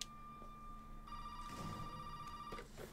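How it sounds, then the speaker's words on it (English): A telephone rings in the horror video game Resident Evil 7 Biohazard, a thin, steady electronic ringing tone that runs across the moment. A brief soft thump comes near the end. "there's a phone right fucking here."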